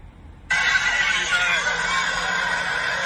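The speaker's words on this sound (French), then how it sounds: "Voilà le coq blanc." A white rooster crows during a fetish ritual in Mali, a loud, sustained, harmonic crow that begins abruptly and carries on steadily for several seconds with no talk over it.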